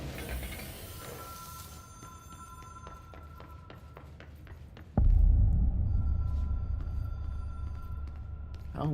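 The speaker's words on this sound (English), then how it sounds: "How loud is this damn phone?" Ringing telephone in the video game Control, sounding as repeated electronic tones with steady pulses, until a sudden loud low rumble takes over and masks it.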